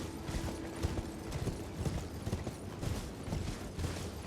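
A horse's hooves clip-clop steadily as it is ridden in the Elden Ring video game, a rhythmic series of muffled thuds under a dense ambient wash, with no talking.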